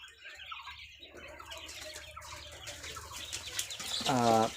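Chicken chicks and quail in a coop give a steady busy chorus of small peeps and chirps, with one louder harmonic squawk-like call near the end.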